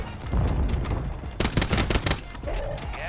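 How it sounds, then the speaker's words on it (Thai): Shotgun blasts in the shooter game Warzone, several loud, close reports fired in quick clusters with echoing tails across a few seconds. "ยิงลูกซองเพราะว่าเมื่อกี้ปืนหลักผมหมดนะฮะเลยยิงลูกซองมาฮะ"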